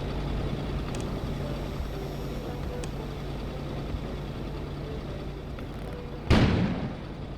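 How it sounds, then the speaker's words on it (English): A single sudden blast erupts outside in the video game Kona, a sharp loud burst near the end that decays over a second above a steady low rumbling ambience, with no speech. "An explosion suddenly occurred outside."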